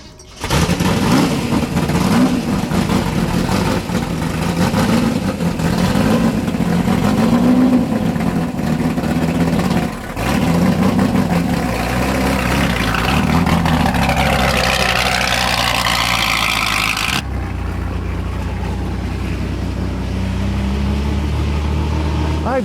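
Genuine Ford GT40 race car on track hot laps, its engine roaring loud and close, rising and falling through revs with gear changes, then settling to a lower drone near the end.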